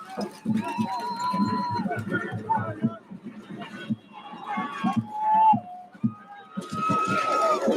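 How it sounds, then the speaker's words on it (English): Crowd noise at the Chargers vs Tomball NHFA national championship football game, a bustling murmur with some cheering rising beneath a commentator's steady speech. "I'm sure you can hear that crowd noise."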